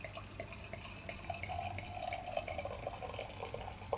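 Czech American Red IPA from Pivovar Clock being poured into a glass, a close, continuous liquid gurgle and splash with small fizzing pops and no talk.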